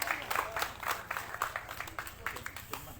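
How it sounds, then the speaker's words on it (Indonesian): A church congregation claps in a quick, scattered burst of applause, with voices calling out over the clapping. "Beri tepuk tangan yang meriah bagi Tuhan"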